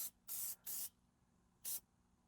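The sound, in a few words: spray paint can spraying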